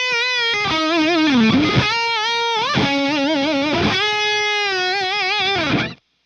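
Electric guitar playing a heavy crunch tone through a Friedman IR-X, thick distorted chords and bends ringing loud and sustained for about six seconds before cutting off abruptly.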